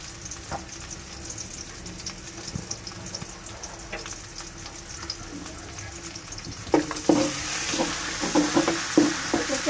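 Onions fry in a pan, browning with torn chillies, sizzling steadily with soft stirring scrapes, then growing louder and brighter toward the end with sharper crackles and clinks.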